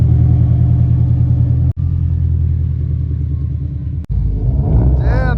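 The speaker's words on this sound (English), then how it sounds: "Bring this car out, and then Raph, you gotta bring your car in." A car's engine rumbles steadily at close range as the vehicle is driven out, with a low continuous drone and a brief rev near the end.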